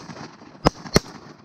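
Two loud, sharp shotgun blasts about a third of a second apart ring out during a December duck hunt for greenheads and pintail, with quiet outdoor background between and after.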